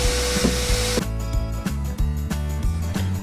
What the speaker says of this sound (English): We're gonna do a vacuuming of the entire thing and get all this loose dirt.